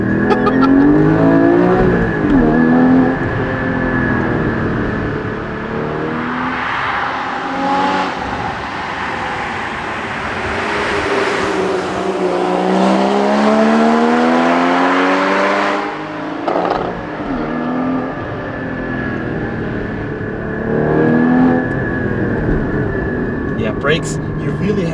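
Porsche 981 Cayman GT4 driving hard on a Black Forest road, its engine loud and constant as it accelerates, climbs and drops through the revs with downshifts, and a voice is heard over it.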